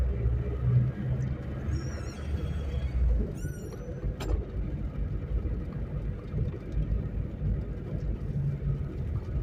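A car driving along a hilly country road, a steady low engine rumble and road noise from inside the cabin, with brief high whistling sounds early on.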